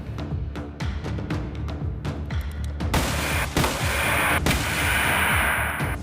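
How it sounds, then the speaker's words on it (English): A .44 Magnum fires repeatedly at an original equipment car windshield, giving a rapid series of sharp, loud gunshot cracks, with heavier impact bangs and glass noise later on. "What I have here is a .44 Magnum. What we're going to do is shoot at an original equipment windshield,"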